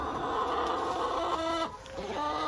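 Hens in a cold winter farm coop cluck and murmur in short, uneven calls, close and moderately loud against a steady background hum, with no talk.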